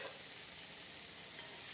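Potato pieces sizzle and fry in a pan for a fish-head potato curry, stirred steadily, giving a continuous close hiss with no talk.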